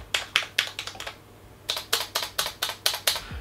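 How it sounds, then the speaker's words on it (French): Mechanical key presses on a Cooler Master SK650 keyboard, including a key with a stabilizer bar that adds a small metallic rattle, come as a close series of sharp clicks in two bursts separated by a short pause. "on entend le petit bruit mécanique de la barre de force, le petit bruit métallique, je dirais même, de la barre de force"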